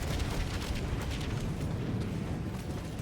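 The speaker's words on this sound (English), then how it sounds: "Shoot the grenade pistol." Grenade pistol rounds explode in the video game Helldivers, a dense continuous rumble of booming blasts and crackling bursts, loud and unbroken with no talk over it.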